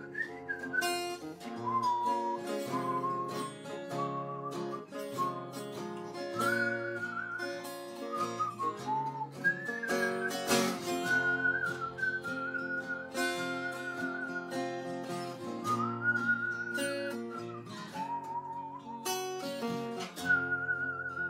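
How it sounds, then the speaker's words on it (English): A person whistles a continuous melodic tune for about twenty seconds, clear and fairly close, with sustained pitched notes gliding between phrases over a steady harmonic background. "I'll whistle."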